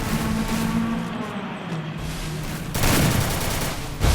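Gunfire in the video game Free Fire comes as a dense, loud, continuous burst of rapid shots that swells louder partway through.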